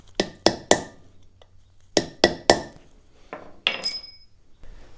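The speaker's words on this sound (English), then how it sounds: "now we can tap our seal in" A grease seal tapped into a truck hub during a front-end rebuild, heard as sharp close metallic taps in quick clusters of three, two groups of three then two more single knocks, with a ringing clink near the end.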